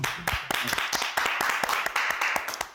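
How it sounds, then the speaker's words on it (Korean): A small group claps together at the end of a recorded talk, giving a dense run of sharp, close hand claps that continue steadily without speech. "박수 한번 또"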